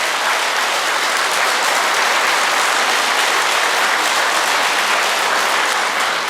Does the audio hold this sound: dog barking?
no